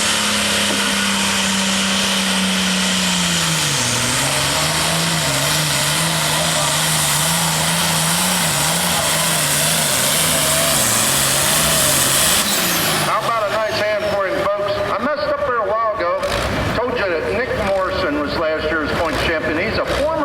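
Cummins-powered 466 cubic inch hot farm pulling tractor at a tractor pull, a loud engine drone with a pitch that dips and wavers, then a harsher roaring burst near the end, with announcer talk running over it.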